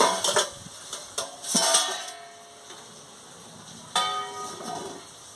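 A metal lid is lifted off a cooking pot of steamed prawns, giving bright clanking rings at the start, a cluster near 1.7 seconds and another sharp clink near 4 seconds, then fading quietly.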